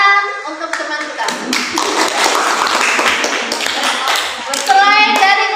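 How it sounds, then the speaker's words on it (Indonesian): A classroom of children claps for a student group, dense steady applause with a rhythmic patter, while young voices chatter and call out at the start and end. "Beri tepuk tangan untuk teman kita."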